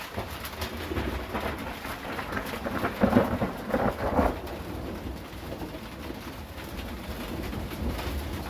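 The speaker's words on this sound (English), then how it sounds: "I love the thunder and lightning because we're up in the mountain and we're very close" Thunder rolls during a mountain storm, a low rumble that swells in the middle with rain falling steadily throughout and birds calling in the background.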